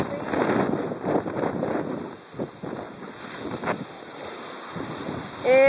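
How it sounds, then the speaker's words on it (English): Storm waves from Hurricane Sandy surge and crash over a dock on the Rhode Island coast, a churning rush of water with heavy wind buffeting the microphone throughout. "These waves are huge."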